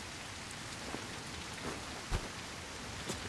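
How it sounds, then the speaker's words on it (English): Steady rain falls in the video game God Save Birmingham, a constant soft hiss of drops on surfaces with a few sharper patters and one louder drip-like knock, alone without voices. "Didn't see rain before."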